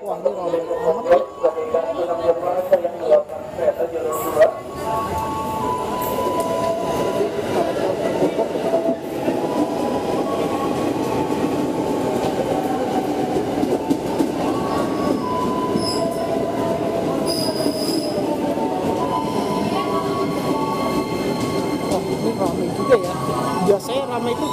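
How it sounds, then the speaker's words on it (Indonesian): A KRL commuter train bound for Bogor rolls into Sudirman station in Jakarta, with rumbling wheels and squealing brakes, loud and sustained, while people chatter in the background of a busy platform. "Nah ini bentar lagi KRL ke Bogor dan mau sampai ya."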